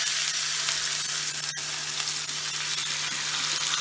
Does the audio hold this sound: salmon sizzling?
yes